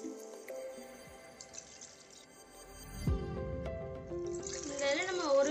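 Water being poured into a pot of rice and mixed vegetables while making vegetable pongal, giving soft drips and splashing that build into a louder pour toward the end, with quiet talk in the kitchen.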